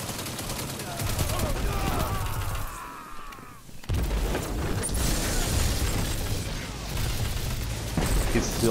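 Combat sounds in the shooter game Destiny 2, with heavy booms and rattling gunfire through most of the stretch and a brief drop-off in the middle before loud blasts resume, while voices talk over it.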